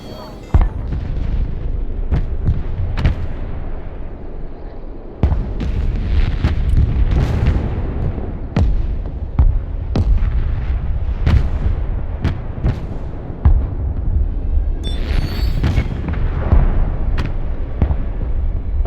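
Artillery precision rounds fire in the video game Broken Arrow, a long run of repeated booms and sharp impact blasts over a rumbling battlefield bed, some close and loud, others farther off.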